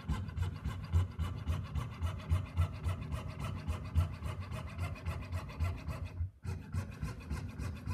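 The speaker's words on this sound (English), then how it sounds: "As I cut, I'm blowing the wax away from my cut line." A hand saw cuts a hinged bangle out of a block of carving wax in a steady, close back-and-forth rasp. There is one brief pause before the sawing resumes.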